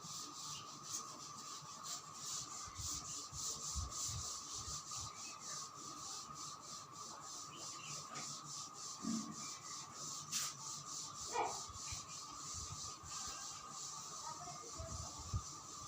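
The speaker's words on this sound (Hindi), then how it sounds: "इसे मैं रब कर रहा हूँ अभी।" Continuous rubbing, a dry scraping hiss with a steady rhythmic texture across the whole stretch, fairly close and unaccompanied by talk.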